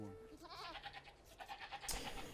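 Sheep in the real-time strategy game Age of Empires II give soft, wavering bleats that repeat in a short run over a low background, quiet and close.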